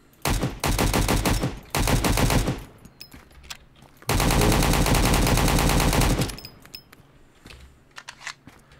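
A stock AK rifle fires in the video game Road to Vostok, two long loud automatic bursts of rapid shots with a short pause between, then faint clicks and handling.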